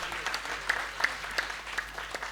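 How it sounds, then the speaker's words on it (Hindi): Audience applause at a community stage event, a steady patter of clapping with a few sharper individual claps standing out, moderately faint and continuous for a couple of seconds. "आप तालियां बजाते रहो"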